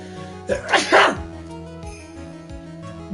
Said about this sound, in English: I have really loud sneezes